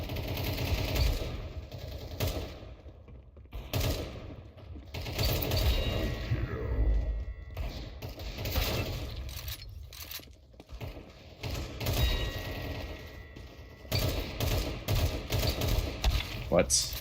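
Gunfire in the Valorant video game, with bursts of rapid automatic shots and single cracks spread across the stretch among mechanical clicks, with a player talking at times.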